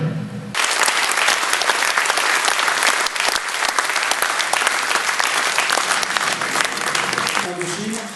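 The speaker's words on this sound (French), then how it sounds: "le médecin colonel Wang, on peut applaudir aussi." Audience at a Paris commemoration of the Dien Bien Phu battle and the Indochina War bursts into loud, sustained applause for about eight seconds, dense clapping from a large crowd, with brief speech before it starts.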